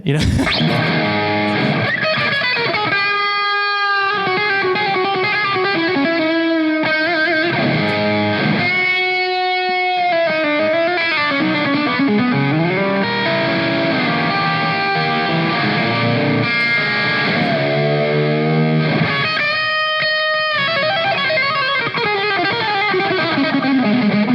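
Heavily distorted electric guitar playing sustained chords and melodic runs at a guitar clinic, loud and continuous throughout, with bursts of bright, harmonically dense notes.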